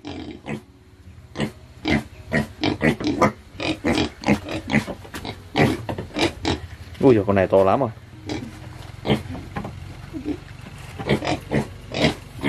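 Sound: white pigs grunting

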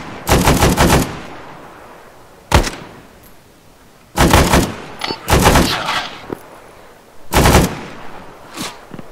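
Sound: machine gun suppressing fire in a video game

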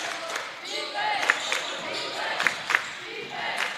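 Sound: basketball crowd cheering in the gym

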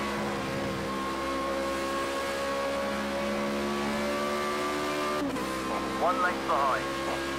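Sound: Formula Renault 3.5 race car engine in video game Project CARS 2

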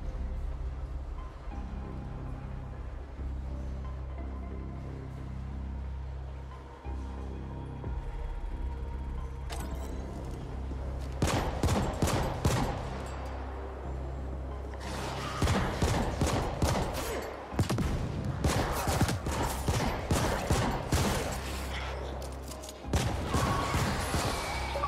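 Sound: gunfire from shooting in video game The Ascent

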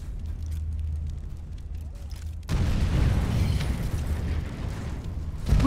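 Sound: explosion, from video game Sniper Elite 4

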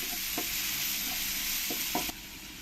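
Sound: chopped onions sizzling in hot oil

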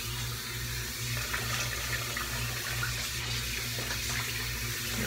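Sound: water running to rinse shaving razor

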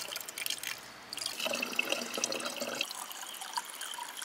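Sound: water from a natural mountain spring filling a bottle

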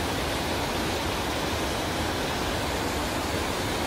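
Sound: mountain stream water pouring down in Jirisan Baemsagol valley

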